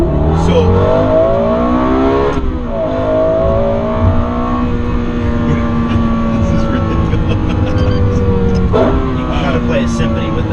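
A Lexus LFA engine revs up and down repeatedly, its pitch sweeping in rising and falling waves, loud and close.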